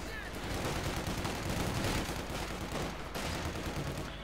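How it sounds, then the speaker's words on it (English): Rifle volley fire in the Company of Heroes 2 strategy game, a dense, continuous rattle of gunfire and battle noise at low level. "a bit of volley fire on the Volksgrenadiers"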